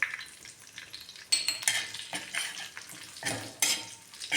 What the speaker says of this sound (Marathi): बघा कढीपत्ता थोडासा भाजला एकदम गॅस कमी करायचा आणि टाकायचा आहे 1 चमचा लाल तिखट.